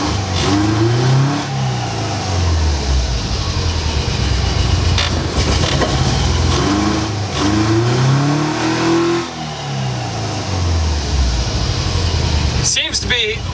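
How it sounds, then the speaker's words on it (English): A Porsche 914 engine is revved repeatedly, each blip rising and falling in pitch over a steady idle, loud and close, with rhythmic surges spaced a few seconds apart. "So you can see it floating around when I rev it."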